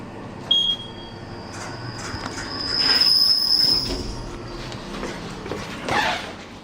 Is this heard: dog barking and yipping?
no